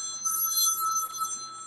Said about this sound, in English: And the God phone is ringing.